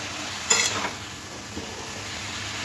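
Cabbage frying in a pan with spices, stirred slowly: a soft, steady sizzle with a brief scraping stir near the start and a fainter one later, no voices.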